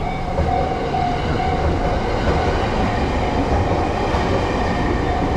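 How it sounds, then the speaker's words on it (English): A train rolls past on a Tokyo street at dusk, a loud, steady rumble of wheels and carriages with rhythmic clatter and faint squealing, continuous for several seconds with no voices. "stuck by a train"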